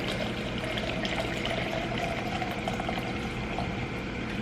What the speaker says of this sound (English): And then I'm gonna put coconut water in there.